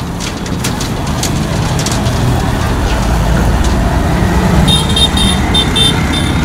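A truck moving through dense Lagos traffic, its engine rumble blending into a steady roar of road noise with short horn toots near the end.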